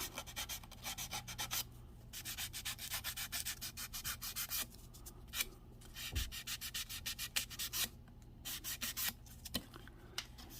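Sandpaper is worked by hand over the body panel of a 1969 Dodge Charger R/T, giving close, rhythmic rasping strokes with brief pauses and occasional soft knocks.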